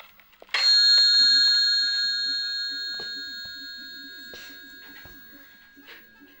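Bell marking 5 AM in the video game Five Nights with Basik gives one loud, close chime that rings out and slowly fades over several seconds, with faint background clicks and a quiet voice underneath.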